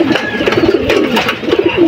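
Pigeons cooing close by, a run of low, throaty, rolling coos repeating continuously over a short stretch.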